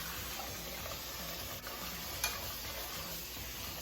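Rice being rinsed in water in a home kitchen gives a faint, continuous swishing and trickling, with a small clink partway through and no talking.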